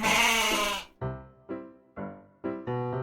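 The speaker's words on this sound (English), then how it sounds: "Goat." A goat bleats several times, starting with a long loud call and followed by four shorter wavering bleats in quick succession, close and clear with no talking.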